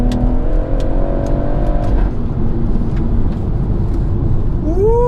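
A BMW M140i on lightweight wheels accelerates hard, its engine note holding a rising then dropping pitch before settling into a loud, steady roar with a fresh climb near the end.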